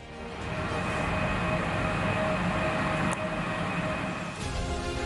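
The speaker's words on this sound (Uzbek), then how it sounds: "Ana shunday po'lat karvonlardan biri yuqori tezlikda harakatlanuvchi Afrosiyob zamonaviy poyezdidir." An Afrosiyob high-speed electric passenger train runs along the line with a steady loud rumble and whine of wheels on rail, sustained throughout with a brief swell near the end.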